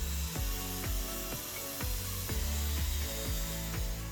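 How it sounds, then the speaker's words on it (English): A tool notching the metal frame of a Power Wheels ride-on build, giving a steady run of rhythmic scraping strokes roughly every half second, close and fairly loud, with no talking. "I'm gonna notch this frame right in here."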